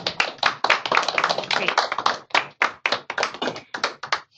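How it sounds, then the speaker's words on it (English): Audience clapping at the close of a clinical nursing presentation, a fairly close burst of many hands in uneven rhythm that thins out toward the end, with a brief spoken word over it. "Could you hear the applause?"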